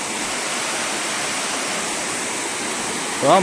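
A remote waterfall spills over rocks with its flow reduced after little rain, giving a steady, broadband rushing roar that holds constant throughout, with a brief extra swell right at the end.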